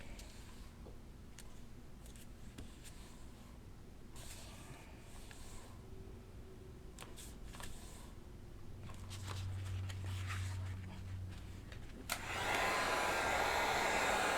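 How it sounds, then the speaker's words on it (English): A heat gun blows hot air over foam flowers shaped on 16 gauge wire, a steady whooshing roar that grows louder and brighter toward the end, with scattered small taps and handling noises. "that's another good thing about the heat gun that I like"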